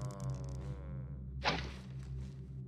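An arrow thuds into a wooden surface in the stealth video game Thief Gold: a single sharp thunk at mid-clip, standing out over steady low game ambience and a droning hum.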